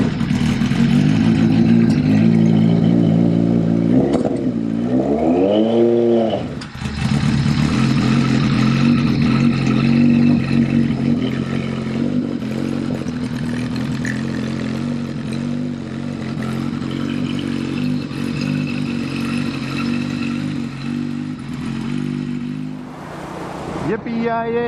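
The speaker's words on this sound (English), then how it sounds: "I'm going to hop back on it and go for a motorcycle ride." A 1976 Harley-Davidson Sportster 1000 rumbles loudly on a ride, engine note rising and falling through gear changes, then settling into a steady cruising drone, with occasional voice over it.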